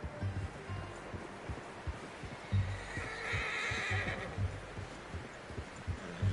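A horse in the Red Dead Redemption 2 video game whinnies loudly and close, with hoof clip-clops and ambient noise underneath and no talk.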